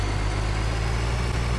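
Steady low idle of a tractor engine in Farming Simulator 2013, a continuous droning hum that holds at an even level throughout, with no talk.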